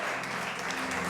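A church congregation claps in a dense, continuous burst of applause during a sermon, with voices mixed into the sound.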